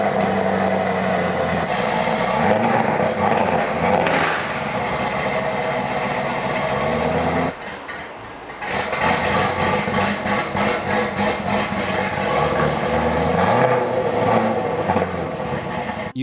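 A Camaro ZL1 engine rumbles loudly up close at the exhaust tip, idling roughly with repeated revs and a brief drop in volume midway.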